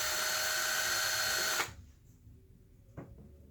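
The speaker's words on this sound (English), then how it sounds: "going to put that drill in just enough to get the screw in" A power drill with a 1/8 inch bit bores into stucco with a loud, steady high whine for about a second and a half. It then cuts off abruptly, leaving a faint bump and quiet room noise.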